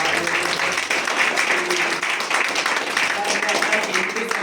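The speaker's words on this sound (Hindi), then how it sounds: "इनके लिए जबरदस्त तालियां चाहिए।" Audience applause for a mentor at a Lucknow real-estate gathering, a dense crackle of many hands clapping with slight surges and dips, moderately loud and close throughout.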